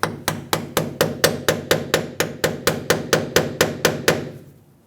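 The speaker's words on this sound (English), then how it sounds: "I'm going to try and tap a screwdriver at the base of it." A screwdriver is hammered against the base of a stuck rear ABS sensor on a 2008-2010 Ford F250 Super Duty, about eighteen sharp, evenly spaced metallic taps close by before stopping.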